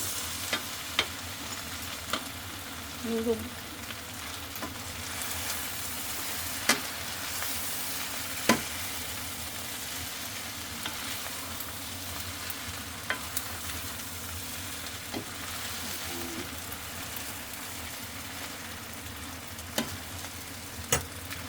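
Pancit guisado noodles are stirred in a hot pan, a continuous frying sizzle broken by repeated scrapes and knocks of the utensil against the pan at irregular intervals.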